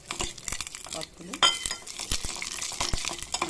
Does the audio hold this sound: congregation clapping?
no